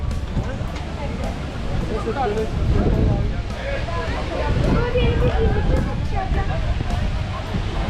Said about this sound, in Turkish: Baya rüzgar var umarım sesim geliyordur.